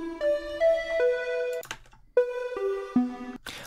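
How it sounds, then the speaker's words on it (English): A resampled synth patch chord is rendered and played in reverse, giving a short series of tonal notes that step in pitch, with brief breathy swells between phrases. It is close and clear, with no voices. "this is a render of a chord from this synth patch"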